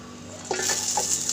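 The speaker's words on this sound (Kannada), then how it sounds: "2 ಸ್ಪೂನ್ ಎಣ್ಣೆ ಹಾಕಿ ಹುರಿಯೋಣ" Onion, mint, tomato and spices frying in oil in a pan, a faint hissing sizzle that begins suddenly with a clink of a spoon against the pan, heard close with no talk.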